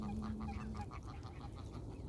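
Geese honking and squabbling over food in a park during a morning walk, a steady run of repeated honks and calls from several birds close by, loud and continuous with no talking.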